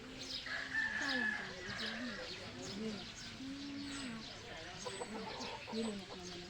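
Faint chickens crowing and clucking at a distance, scattered calls over a low background with possible quiet voices.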